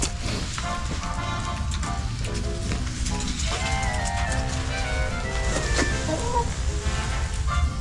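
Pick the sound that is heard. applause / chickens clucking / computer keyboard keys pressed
chickens clucking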